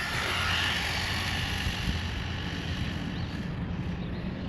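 A Losi NASCAR RC car with a brushed motor makes a top speed run outdoors, giving a steady, loud electric whine with road hiss that holds continuously throughout.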